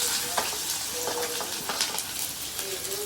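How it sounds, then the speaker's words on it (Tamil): Chopped onion drops into hot oil with fenugreek seeds for a crab curry and fries with a steady, close sizzle, broken by a few scraping stirs. "இப்போ வெங்காயம் போட்டுக்கலாம்."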